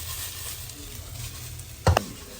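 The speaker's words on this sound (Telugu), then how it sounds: "ఇప్పుడు ఆల్మోస్ట్ అయిపోవచ్చింది ఫ్రై" Ivy gourd fries in a pan with a soft, steady sizzle close by, broken near the end by a brief clatter of stirring.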